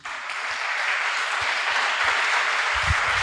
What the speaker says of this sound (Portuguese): Não aplauda Jesus,